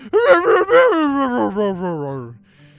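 A voices a dog imitation, a drawn-out howling whine with rising and falling pitch that sinks into a low whimper over about two seconds, close and loud, with no other sound.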